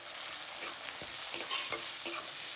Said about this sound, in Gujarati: આ બધાને મિક્સ કરી થોડી વાર પકવા દેવાનું.